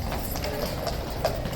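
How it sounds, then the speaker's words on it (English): A captain's horse walking near a guard box, hooves clip-clopping in an uneven rhythm on a hard surface, fairly close and steady over a low background murmur. "And the captain's horse, hopefully, is not going to knock me out."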